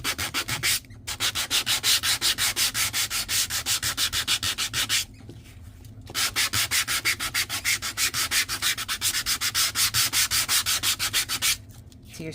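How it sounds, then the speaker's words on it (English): Nail file buffing the raised edge of a cardstock card in fast, steady back-and-forth rasping strokes, broken by two brief pauses, close and without talk. "I'm just going to sand, kind of buff."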